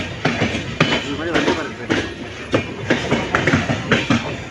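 Passenger train on the Karur to Tirupur line running over the rails, with loud rhythmic clickety-clack wheel beats repeating against a steady rumble, heard from inside the coach.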